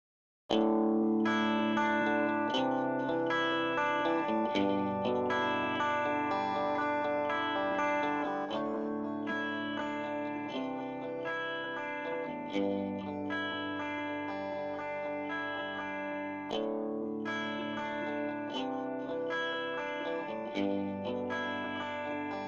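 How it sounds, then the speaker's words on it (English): Sustained, harmonically rich instrumental passage thickened by a short doubling delay, as if two players perform the same part with slight timing variation; loud and continuous, with a chorus-like wash throughout. "the idea of doubling is to simulate the sound of two players performing the same part together"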